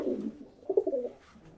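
Rooftop pigeons kept in nesting boxes with newly hatched chicks give soft, rolling coos, a low murmur followed by a louder burbling phrase, close by and without talk.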